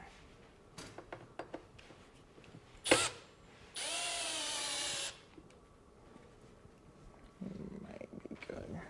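A power drill tightens a screw during a taxidermy mount build: one loud whirring burst of about a second, among quieter knocks and handling noises in a room.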